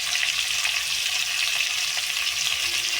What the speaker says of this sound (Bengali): এরকম আলুগুলো ছেড়ে দিল এবার একটু ভাজা ভাজা করবে নুন হলুদ দেবে